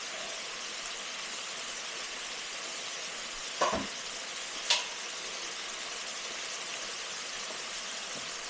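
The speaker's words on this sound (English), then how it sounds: "Go ahead and stir this up until it's all good and mixed." A pan of Tex-Mex chicken and sausage stir fry with ramen sizzles steadily as it is stirred, with a constant frying hiss and two brief scraping clinks of the utensil against the pan.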